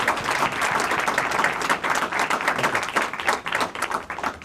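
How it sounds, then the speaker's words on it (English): A round of applause fills a public safety meeting hall in Malden, steady dense clapping from a sizable audience with no pause, fairly loud and close, lasting the full stretch. "I'd like to give them one last round of applause"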